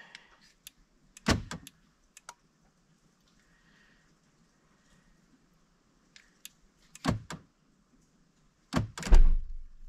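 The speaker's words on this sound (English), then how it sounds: "Trunk release works." A 2016 Hyundai Elantra trunk release fires with a sharp thunk, followed by a few lighter clicks and two more solid thumps spread over several seconds, close and otherwise quiet.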